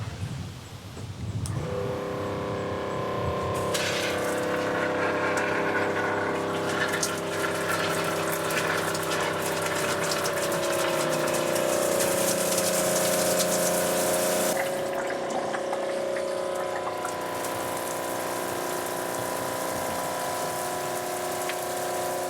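An electric water pump runs in a cargo van's shower system, fed from a 16-gallon water tank. It gives a steady, close, continuous whirring hum with a watery flow, heard alone throughout.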